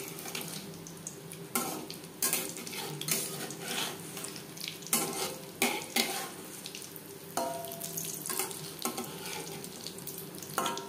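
Egg chops shallow-fry in oil in a pan, giving a continuous crackling sizzle with bursts of louder spitting and occasional clatter of turning, heard close and steady with no talk.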